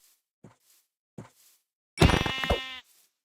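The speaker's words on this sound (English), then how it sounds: "hunting sheep" Sheep bleating in Minecraft: two short faint bleats, then one loud, long, wavering bleat near the end, each standing alone with no talk.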